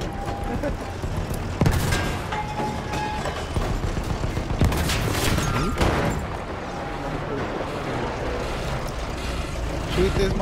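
Battlefield 1 multiplayer battle with scattered gunshots and a couple of heavy booms amid a constant roar of combat, while players talk over the noise.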